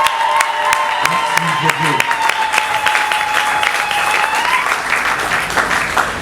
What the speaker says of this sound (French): nous allons les manifester par des acclamations, par des cris de joie